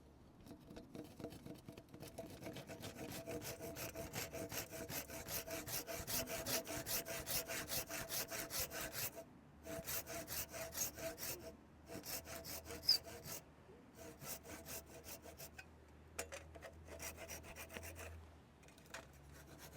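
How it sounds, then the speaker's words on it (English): A sharp chisel pares back green oak on a timber-frame building site, giving a run of soft scraping, rasping strokes with brief pauses between them, fairly quiet and close. "Take a nice sharp chisel out of my roll. And just pare that back."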